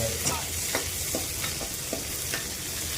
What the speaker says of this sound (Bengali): এবার ঘিয়ের মধ্যে কিশমিশটাকে হালকা ফ্রাই করে দেবো